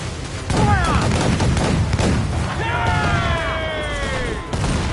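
Cannons firing in a video game, a rolling barrage of booming shots heard close and loud, with whistling projectile streaks and voices shouting over the din.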